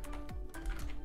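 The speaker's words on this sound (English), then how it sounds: "Hit Alt on your keyboard and then left click on your mouse and type here" Keys clatter on a computer keyboard in a quick series of light taps, close and fairly quiet.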